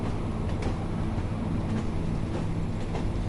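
A train in the Train Sim World 5 game rolls along the Tees Valley Line, giving a steady low rumble and rattle of rail cars with faint clicks, heard alone at moderate volume.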